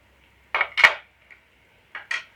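A utensil knocks and scrapes inside a vessel as chicken is mixed with chilli powder and masala, giving a few separate metallic clinks in two short bursts with quiet between them.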